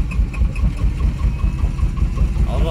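A car engine idles on a cold day after a hard start, a steady low rumble with a faint rhythmic ticking, close and continuous.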